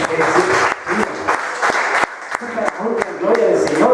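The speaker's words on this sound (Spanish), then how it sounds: "Un aplauso al Padre, al Hijo y al Espíritu Santo." A church congregation at a Spanish-language sermon breaks into loud applause praising the Father, Son and Holy Spirit, dense clapping from many hands with sharp individual claps punctuating it, under voices calling out and talking.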